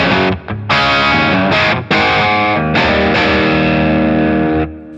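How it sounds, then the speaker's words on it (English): Double Esquire Special electric guitar with a higher-output pickup, played straight into the front of the amp through an Octahive-type fuzz, giving a gritty, gainy tone; close, loud chords and riffs with short gaps between phrases. "Double Esquire Special, straight into the front. It's a higher output pickup"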